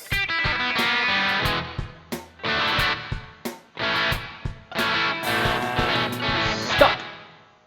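Distorted guitar chords played through a swirling, modulated reverb effect on a BR-800, with bursts of sound separated by short gaps and lingering washy tails.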